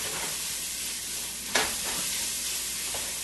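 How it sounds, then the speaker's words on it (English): Onions and carrots sautéing in four tablespoons of butter, a steady close sizzle and hiss with a single sharp stirring scrape midway and a softer clink near the end, no talk. "4 tablespoons of butter, and we're going to saute the onions and the carrots until they are soft."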